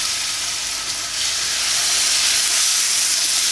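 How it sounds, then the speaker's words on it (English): Food laid into a hot pan gives a loud, continuous sizzling hiss that swells slightly after the first second and holds steady, close up with no talking. "So I will put them to the pan"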